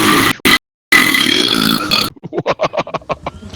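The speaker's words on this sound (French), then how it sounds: "Ou trop roter aussi, genre, ils vont se dire il y a un animal enfermé chez elle" A string of short, rhythmic burps, about nine quick gulping pulses in a row, heard close after a stretch of louder noisy sound, during a game session of R.E.P.O.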